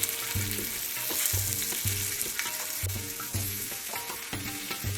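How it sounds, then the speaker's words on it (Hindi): Arbi leaf vadi (colocasia leaf rolls) frying in a little hot oil in a pan, a steady close sizzle with repeated soft scraping and stirring strokes, no voices. "तो हम थोड़ा सा ऑयल डाल के इसको थोड़ा फ्राई कर लेंगे"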